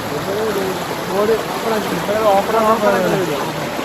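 River water flows steadily at the Dubare elephant camp in Coorg, a continuous rushing wash with people talking over it.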